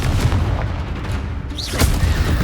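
A Confringo spell explodes in Hogwarts Legacy gameplay with heavy, booming blasts and rumbling bursts, followed by a brief whooshing magical effect.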